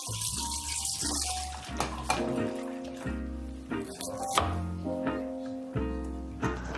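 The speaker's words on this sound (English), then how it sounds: "What you need to do is rinse the plates first, because otherwise you end up with all the bits floating in the water." Running tap water splashes over plates being rinsed in a kitchen sink, a steady flow broken by clinks and thunks of crockery, with people talking over it.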